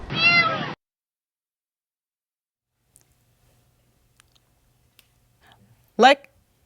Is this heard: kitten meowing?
yes